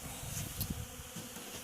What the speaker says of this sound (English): I got my bees here cleaning up some honey from some dead outs